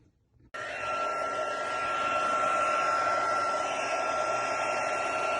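A heat embossing tool blows steadily on card, switching on abruptly after a brief quiet start and holding a loud, constant whirring rush with a faint high whine throughout.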